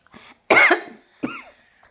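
Two harsh coughs close by, the first long and rasping, the second shorter, with a faint breath before them.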